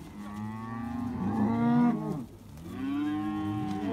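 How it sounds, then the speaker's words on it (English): Cattle low loudly and repeatedly in a corral during sorting of calves from cows, with long drawn-out moos overlapping close by and another call following after a brief pause. "Right now, they're sorting the calves from the cows."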